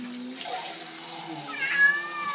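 Kitten meowing during a bath, a few short close cries with water faintly running underneath.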